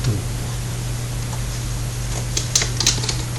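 Someone types on a computer keyboard while working in an Excel spreadsheet, with a few quick, soft key clicks near the end over a steady low electrical hum.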